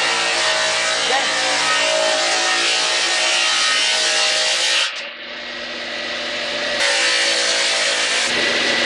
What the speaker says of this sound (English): So its purpose is to saw wood. It's a saw line, divide wood into various dimensions. So that's the saw machine.